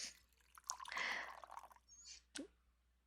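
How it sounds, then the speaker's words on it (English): A watering can in a video game pours onto plants, giving a soft burst of splashing water followed by a few brief drips and plops, faint and close with quiet gaps between. "that, I guess, is the watering sound"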